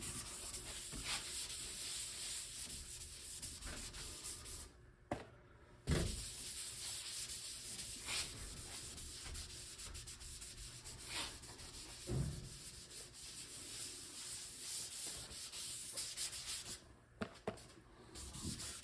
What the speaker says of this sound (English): so you can see it when you're sanding